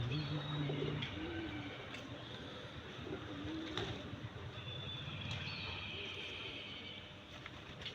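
Pigeons cooing at an outdoor feeding spot in the early morning, low soft coos repeating through steady bird chirps and background ambience, with no talk.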